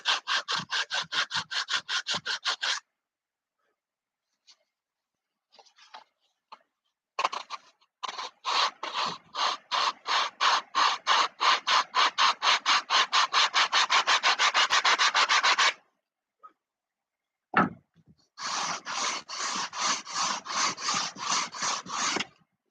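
Rhythmic back-and-forth rasping of sandpaper on wood for a model airplane's Caudron tail feathers, in long fast bursts separated by short pauses; close and loud, no talking.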